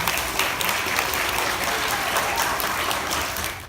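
A morning audience at a music performance about the Underground Railroad applauds steadily, a dense, even wash of clapping that holds at full strength for nearly four seconds before easing off.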